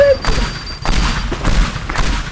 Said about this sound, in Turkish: Böyle koyunca bir süre sonra patlıyor böyle.